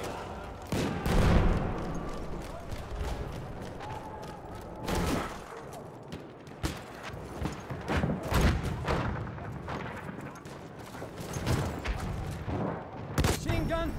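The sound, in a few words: machine gun fire in the video game Battlefield 1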